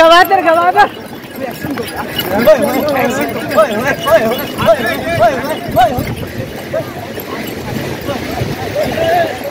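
Horse hooves clip-clop steadily on a sandy beach at Karachi's Sandspit during a horse ride, a rapid running rhythm mixed with loud wind, crowd chatter and nearby voices talking over it.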